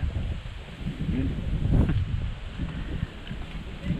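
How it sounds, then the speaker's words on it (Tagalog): Strong wind buffets the microphone in an outdoor spot by the water during soft-shell turtle catching, a low, rumbling roar that surges and fades, with a faint voice under it. "napakalakas ng hangin"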